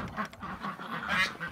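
Ducks and geese rush out of their coop into January snow, with overlapping quacks and honks from several birds, fairly close and continuous, layered over soft rustling and movement.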